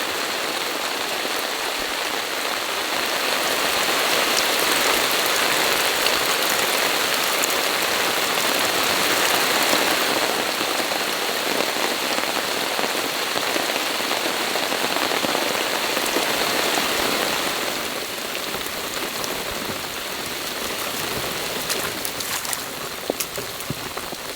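Steady, heavy hurricane rain patters densely and continuously on a tarp nearby, with scattered sharper drops, no voices.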